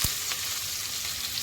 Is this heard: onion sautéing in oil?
yes